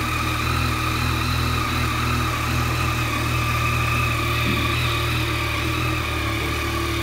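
A Yamaha XSR900 motorcycle engine idles steadily and loudly close by, a continuous even rumble with a mechanical hum and no speech.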